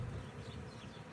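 Honey bees buzz during a February hive inspection of a colony grown from a five-frame nucleus, a low continuous hum that stays steady and close throughout with no voices over it.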